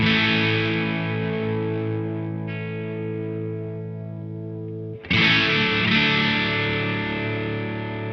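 Sustained distorted electric guitar chord through a Walrus Audio Julianna stereo chorus pedal, with a slow, shimmering wobble, fading slightly before a fresh chord is struck and rings out loudly.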